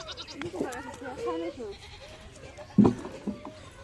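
A goat tethered close by bleats in wavering cries that mix with people talking nearby.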